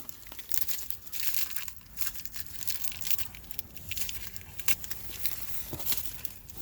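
Tape is peeled and picked off a plastic cabin air filter panel and off fingertips during a Hyundai Tucson repair. It comes through as quiet, irregular crinkling and tearing, with short sticky rips scattered through the clip and nobody speaking.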